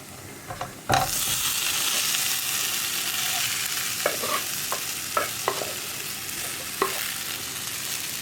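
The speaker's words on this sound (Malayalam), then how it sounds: "അപ്പോൾ നമ്മുടെ പൊടികളൊക്കെ കുക്കായി വന്നിട്ട് നമുക്ക് ഇതിലേക്ക് വേവിച്ച് വെച്ചിരിക്കുന്ന മധുരക്കിഴങ്ങ് ചേർക്കാം." Boiled sweet potato is stirred into masala frying in a pan for a sweet potato masala fry: a steady sizzle after a first loud drop-in, with several sharp spoon scrapes and knocks standing out over it.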